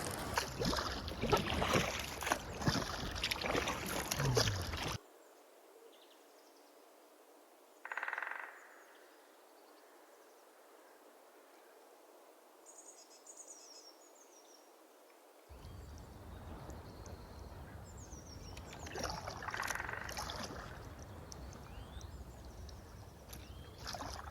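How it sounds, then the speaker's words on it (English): A kayak on a swampy lake with alligators. Paddle strokes splash and swish over steady water and wind noise, with a long quieter stretch between busier spells of paddling. "it makes paddling really obnoxious, getting out from the kayak launch into the main part of the lake"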